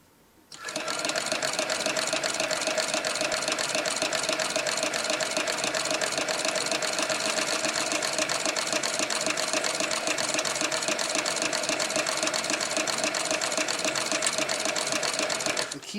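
A sewing machine runs steadily for the whole stretch after a brief quiet start, its fast, even stitching rattle loud and close with no talking.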